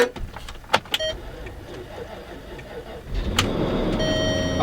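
A salvage auction car sitting on a trailer turns over with a starter whir after a short quiet stretch of clicks and faint noise, then runs with a steady engine drone to the end.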